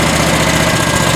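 A 2019 John Deere 652R QuikTrak stand-on mower engine runs steadily right after the key is turned, a close, even mid-low idle rumble with no talking over it.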